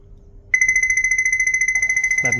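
A Sunmi V2s Plus POS terminal running the Wongnai merchant app sounds a new-order alert: a loud, steady high electronic beeping tone in a quick pulsing rhythm, starting abruptly and continuing throughout, with a faint mechanical whir near the end.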